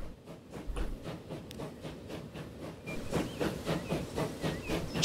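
Steam train puffing uphill in Transport Fever 2, rhythmic chuffs of steam that keep a steady beat and grow louder and busier partway through, with no talking.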